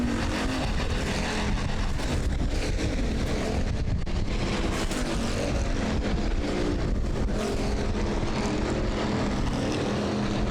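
Hobby stock race cars circling a short track in a heat race, engines roaring together in a dense, continuous near-to-mid-distance drone with no break.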